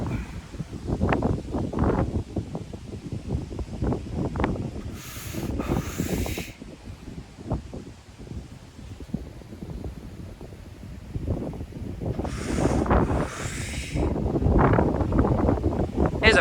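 Strong gusty wind roars outdoors across an open lawn on a clear day, battering the microphone in loud rumbling surges for the whole stretch, with brief hissy rustles in between.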